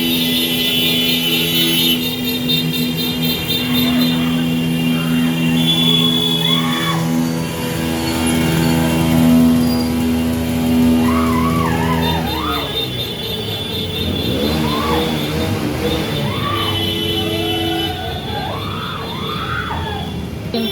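Steady traffic passes on a busy road, with engines droning, occasional horns and high squeals in a continuous near-field rumble. Voices are heard faintly in the mix.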